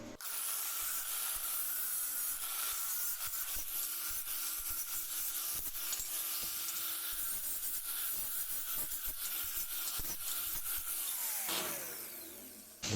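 Steady abrasive grinding and rubbing on a cut metal pipe, deburring edges left by an angle grinder, a continuous hissing scrape held for most of the time, then stopping abruptly near the end.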